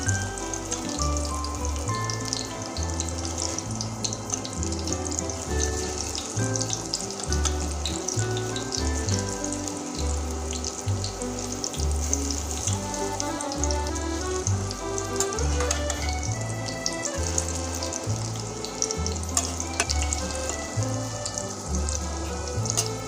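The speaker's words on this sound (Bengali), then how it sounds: "দেখুন পিছনের ছাট লাল করে ভেজে নিয়েছি" Fish roe fritters frying in hot oil in a pan, a dense, continuous crackling sizzle like rain on a surface, steady and close throughout with no talk.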